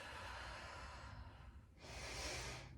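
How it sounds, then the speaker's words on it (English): A soft breath is drawn during a yoga session, followed by a fuller, airy exhale pushing the air out, close and quiet with no talking. "And then I'm exhaling all the air out."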